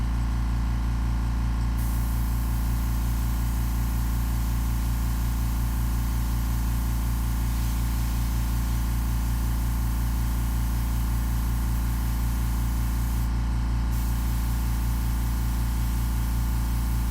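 An aerosol spray-paint can hisses continuously for a graffiti-style tag, a loud steady hiss over a constant low mechanical hum for the whole stretch, with no talking.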